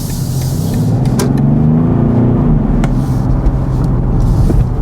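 A BMW 5 Series pulls out and accelerates, a steady, loud engine drone with rising tone heard from inside the cabin, with no voices.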